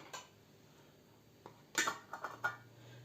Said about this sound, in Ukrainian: І накриваю кришку.